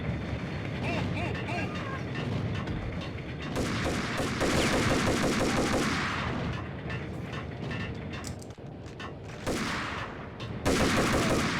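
Gunfire in the 2001 PC game Max Payne, ending in a headshot: dense, sustained bursts of shots with mechanical clatter, swelling and easing in waves, with game voices and effects mixed underneath.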